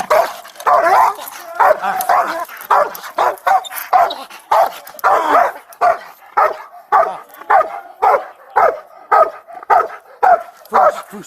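A dog barks and yips in a rapid, insistent run of loud, close barks mixed with whimpering whines, repeating steadily through a police body-camera encounter at a house.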